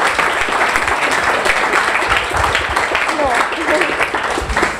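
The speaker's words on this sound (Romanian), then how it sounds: "Haideți să o aplaudăm pe Alexandra" An audience applauds steadily and loudly after a pitch presentation, with clapping continuing throughout while voices talk over it.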